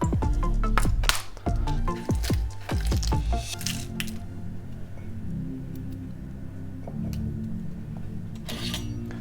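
A peeled boiled egg drops into a cup already holding butter, pepper and salt, giving soft wet squishes and clinks up close in a quick cluster, then quieter faint rustling.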